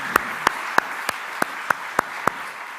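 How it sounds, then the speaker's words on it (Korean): At an early-morning church worship service, about eight evenly spaced, sharp hand claps ring out in a steady rhythm, fairly close and alone. "우리 하나님께 영광의 박수 한번 돌립시다."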